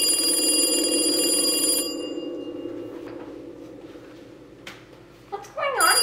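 A telephone rings with a steady, bright repeating tone for about two seconds, then stops, leaving a quieter room with faint shuffling and a brief voice near the end.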